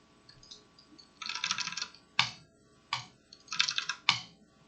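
Close computer keyboard clacks come in two short typing bursts, separated by sharp single clicks, with quiet gaps between them; no talk.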